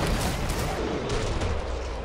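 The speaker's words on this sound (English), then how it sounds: "Those are grenade launchers." Grenade launchers firing in Killing Floor 2, a dense continuous barrage of overlapping booms and blasts, loud and chaotic with no clear gaps and no talk.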